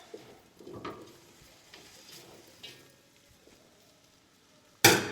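Potatoes stirred in a cooking pan during a home-cooked Mexican family dinner, with faint scraping and light sizzling, ending in a sudden louder clatter.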